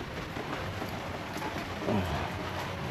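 Steady typhoon rain falls as a constant, even hiss, with a soft low rumble briefly rising near the end.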